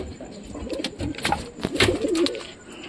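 Pigeons kept in an indoor night setup coo softly and repeatedly nearby, a murmuring series of low throaty calls with light rustling in between.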